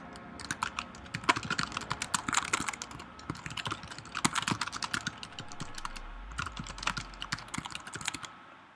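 Steady typing on a computer keyboard, close and crisp, with rapid irregular key clicks in bursts and brief pauses, no voices.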